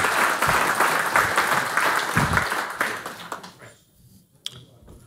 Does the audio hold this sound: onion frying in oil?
no